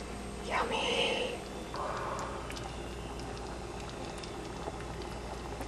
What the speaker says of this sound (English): It's all bubbling up.